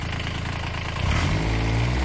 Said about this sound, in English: Let's see what happens when I goose the engine.